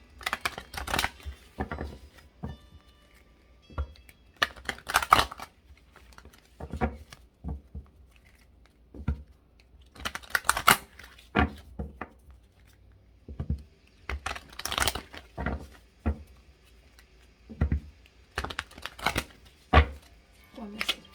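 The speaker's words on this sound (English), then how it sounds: "Let me shuffle this card here a couple times." Oracle cards being shuffled close by in repeated riffling bursts, separated by quieter pauses, with occasional soft handling sounds in between.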